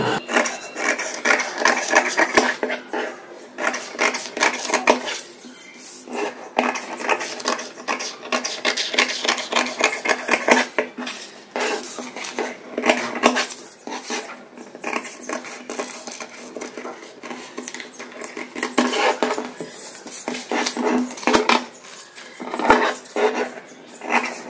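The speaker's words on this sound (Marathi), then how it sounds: "आता हिला आपण कट करून घेऊ." Scissors snip through paper while a size-34 katori blouse pattern is cut out, producing repeated close crisp cuts and rustling in uneven bursts with brief pauses, with no talking.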